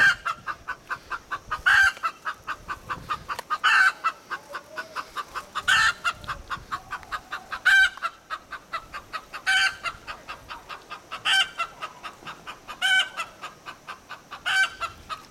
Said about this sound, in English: There's a chicken in there.